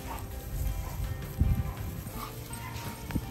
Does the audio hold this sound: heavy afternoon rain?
no